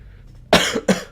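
Two harsh, loud coughs close to the microphone in quick succession after a moment of near silence.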